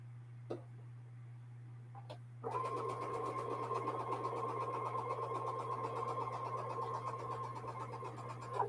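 A home sewing machine joins small quilt units for slider blocks, starting after a couple of clicks and running in a steady, fairly quiet whir over a constant low electrical hum.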